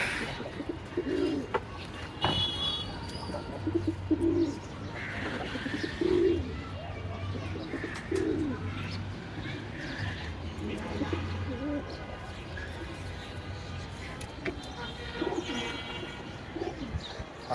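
Pigeons in a pigeon house give low, repeated coos at a steady pace every couple of seconds, close by, with faint chirps and some quiet talk in the background.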